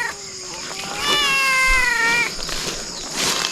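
A cat meows several times nearby, one long drawn-out wailing meow standing out, with faint background noise between calls.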